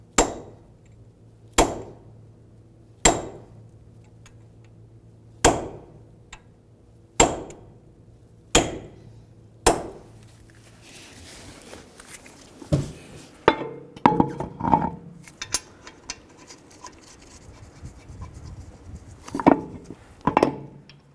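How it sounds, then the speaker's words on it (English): A hammer and punch stake the front wheel hub nut closed on a 2011-2017 Honda Odyssey; about seven loud, evenly spaced metallic strikes ring out, followed by lighter clinking and tool handling. "what we're going to do is stake that closed"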